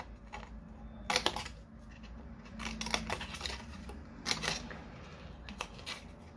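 Scissors snip through paper craft pieces and their tabs up close, in short irregular bursts of crisp cutting with quiet pauses and faint rustling between them, and no one speaking.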